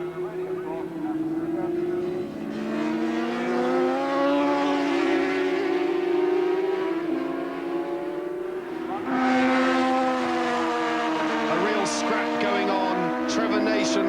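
750cc racing motorcycles at Snetterton circuit scream past, engines rising and falling in pitch as riders brake hard and accelerate, with a second loud surge of bikes later.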